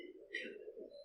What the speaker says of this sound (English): This is supposed to be pigeon sound.